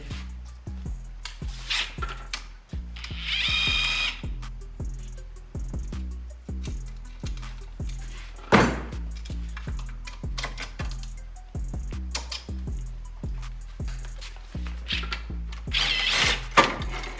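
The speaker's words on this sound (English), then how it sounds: "I'm gonna go ahead and remove the alternator." A hand ratchet clicks in quick repeated bursts while removing the alternator from a 2007 Subaru WRX, with close metallic tool clatter between strokes and no speech.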